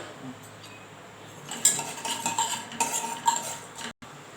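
Chana dal and urad dal dropped into a hot pan to roast, starting quiet and then breaking into bursts of dry rattling and metallic clinks of the spoon against the pan.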